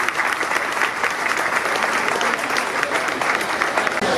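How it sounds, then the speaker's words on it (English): A fair audience at the Great Frederick Fair applauds sheep show participants with dense, sustained clapping that fills the whole stretch evenly, loud and close, with no pauses. "let's give them all a nice round of applause as they're ready to head out"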